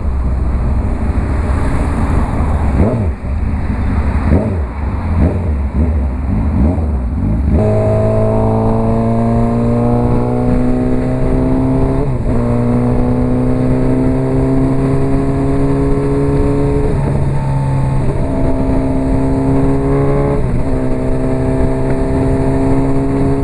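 A Honda CB 1000R motorcycle on the road, its engine droning loud and close throughout, pitch stepping up through several gear changes with rising revs and brief dips between shifts over steady wind noise.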